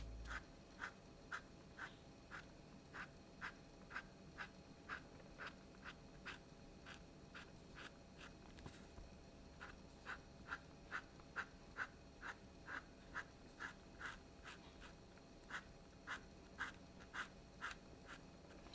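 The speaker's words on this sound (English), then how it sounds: "Sharpie works really nicely on this thick paper" Sharpie marker strokes on thick scratch art paper, a steady run of soft, evenly spaced scratchy swipes repeating close by in a quiet room.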